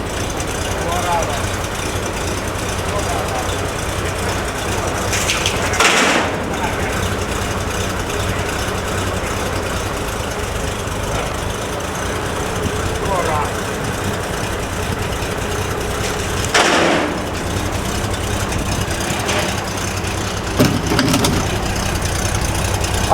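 A 1918 Auburn car's engine idles in a steady, even low rumble that carries on throughout, with a few brief louder bursts and people talking nearby.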